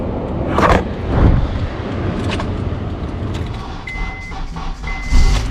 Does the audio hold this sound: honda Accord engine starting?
yes